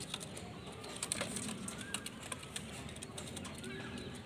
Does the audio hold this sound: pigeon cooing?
yes